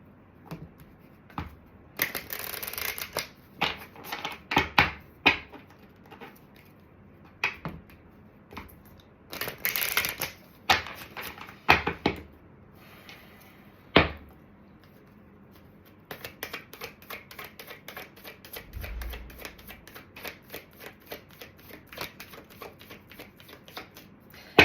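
A Soul's Journey Oracle deck being shuffled during a card reading: close bursts of riffling and snapping cards, separated by pauses, then a long, even run of quick flicks.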